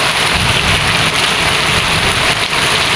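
Heavy, steady rain pouring down on a fruit orchard in Trat, Thailand, with a dense, constant hiss, loud and close, without any talking.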